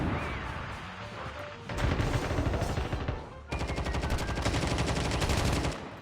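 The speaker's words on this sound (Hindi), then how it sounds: "पता नहीं कौन था जो तब से ऐसे ही गन चलाया जा रहा था" Rapid automatic gunfire from a Call of Duty Mobile battle royale squad match crackles in long sustained bursts, loud and close, with a short pause between the two volleys.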